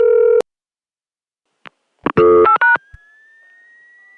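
Recorded 1981 telephone call dialing out through a new East Lake ESS switching office: a steady dial tone cut off, then a quick burst of tone dialing, followed by a thin rising squeal.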